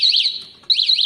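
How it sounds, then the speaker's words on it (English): A motorcycle alarm's shock sensor on a KTM Duke gives a couple of loud, high warning beeps, a short warbling chirp followed by another after a brief gap. "it will give a couple of beeps warning like that"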